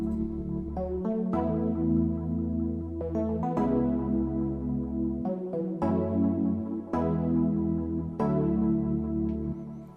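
A house track plays with a steady pumping sidechain duck, a low-pass filter muffling the top end and echo trailing the chords, loud and continuous with no voices.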